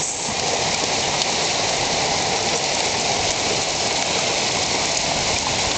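Continuous heavy drumming of hail on surfaces during a night hailstorm, an even, unbroken roar that stays loud from start to finish.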